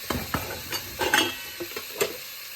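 A spoon stirs a Sindhi seven-vegetable curry with tomatoes in a pan. Soft scraping and light clinks come in irregular strokes over a faint sizzle, close up, with no voices.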